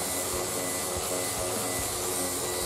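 An electric sander runs steadily, polishing a distressed motorcycle fork with 1200 grit sandpaper, giving a continuous close whirring hum with no pauses or voices.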